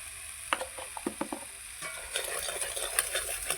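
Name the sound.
masala being sautéed and stirred in a pan on a clay stove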